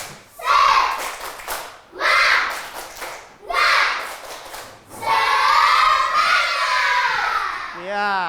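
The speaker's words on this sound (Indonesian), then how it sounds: "Ya, tepuk semangat dulu sebelum kita prestasi." A primary school class claps in unison, several bursts of rhythmic group clapping separated by short pauses, with children's voices chanting along over the claps near and loud.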